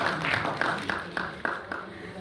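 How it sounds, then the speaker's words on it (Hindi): An audience at a birthday celebration stage program claps in a loose, rhythmic series of distinct hand claps, moderately loud, with a voice talking over them. "तालियाँ ज़्यादा डिजर्व करती हैं ये,"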